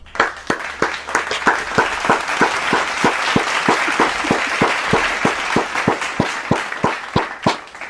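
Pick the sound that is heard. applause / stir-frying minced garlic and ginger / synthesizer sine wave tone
applause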